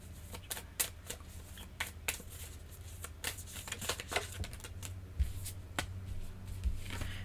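Tarot cards shuffled and drawn by hand for a reading on the Empress and the Emperor: a steady run of soft, papery flicks and riffles, close and fairly quiet, with no talking.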